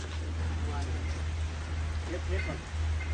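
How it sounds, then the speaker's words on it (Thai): Rain falls steadily outdoors as a continuous, even hiss with a low rumble underneath, while faint voices come and go in the background. "ฝนก็ตกแล้วเนี่ย"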